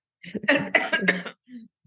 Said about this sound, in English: Excuse me, I've got a bad cough.